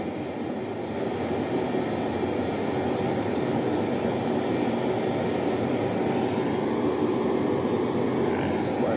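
An F/A-18 Hornet jet drones steadily as it circles in Flight Simulator X, a constant broad engine roar with no break, loud and even throughout.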